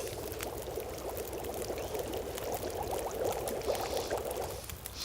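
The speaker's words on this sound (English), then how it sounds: "And then boil a little bit of water." Water boiling in a pot in the survival video game The Long Dark gives a steady, even bubbling hiss that runs unbroken for about five seconds, with no voices.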